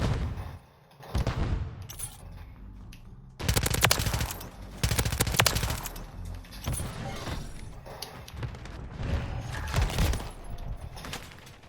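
Rapid automatic gunfire in the video game Modern Warfare III, dense bursts of shots with brief pauses, loud and close, sustained through most of the stretch.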